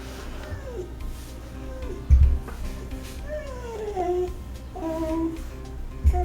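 A small creature named Samson in a video game gives a series of high, gliding squeaks and chirps over a steady rain-like background hiss, with a couple of low thumps.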